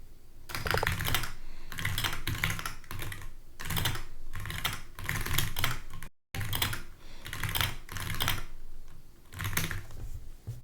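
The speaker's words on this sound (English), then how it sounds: "I can feel myself like getting used to typing in Japanese" Rapid, steady typing on a computer keyboard in Japanese, a dense run of close, crisp key clicks in quick bursts with a brief pause partway, no talking.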